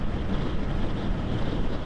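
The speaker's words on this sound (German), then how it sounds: "Endlich mal wieder den Wind spüren" Steady, loud wind rush buffets the microphone while riding a Honda CB650R motorcycle at speed on the Autobahn, a dense continuous roar with no voices.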